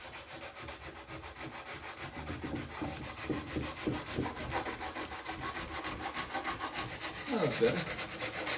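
Sandpaper rubs back and forth along the blue-painted wooden edge of a homemade American flag, giving soft, close, rhythmic scratchy strokes; one short remark is spoken near the end.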